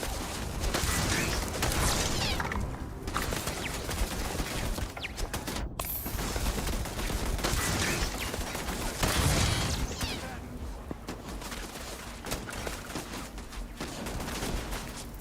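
Explosives going off in the space RPG Starfield, a dense run of rapid blasts and crackling gunfire-like bursts that stays loud throughout, dipping briefly mid-way before the barrage resumes.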